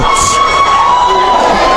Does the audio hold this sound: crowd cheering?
yes